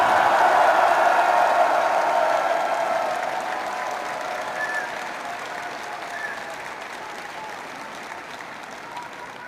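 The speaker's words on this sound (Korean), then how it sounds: "그럼 함성과 박수를 부탁드리겠습니다" Large audience at a political party convention cheering and applauding, a loud dense wash of clapping and voices that starts strong and slowly fades over several seconds.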